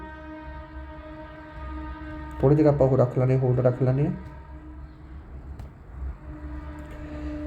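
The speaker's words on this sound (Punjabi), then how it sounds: "ਟ੍ਰੇਨ ਆ ਰਹੀ ਹੈ" A train horn blasts for about two seconds over the steady low rumble of a passing train, while someone speaks.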